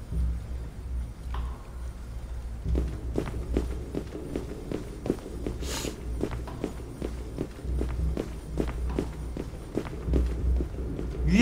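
Footsteps in a backrooms horror video game: a steady run of close, hollow thuds walking at an even pace over a low droning ambience, with no talk.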